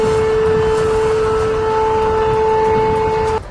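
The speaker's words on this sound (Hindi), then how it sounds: "वहां काफी देर तक हमलों के अलर्ट के सायरन बजते रहे।" Air raid alert sirens sounding over the area after a drone attack on a Russian oil depot: a steady, unbroken pair of droning tones holding for several seconds before cutting off abruptly at the end.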